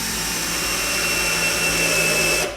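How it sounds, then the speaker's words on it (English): A power drill drives a screw into wood while a planter box is being built, its motor whirring steadily and close for about two and a half seconds before cutting off at the end. "You could stand this up on end and put your weight over the drill as you put the screw in."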